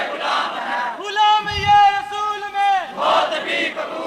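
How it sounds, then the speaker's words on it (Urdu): A crowd chanting religious slogans in unison at a gathering, with a long, loud, drawn-out communal cry rising in the middle and rhythmic group voices on either side. "لو جی اے رسمی نعرے غلامی رسول میں موت بھی قبول ہے"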